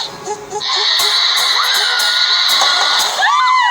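A goat lets out one long, loud, wavering bleat lasting a few seconds, preceded by brief background noise.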